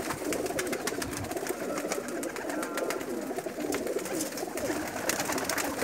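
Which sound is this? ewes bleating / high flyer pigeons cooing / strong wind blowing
high flyer pigeons cooing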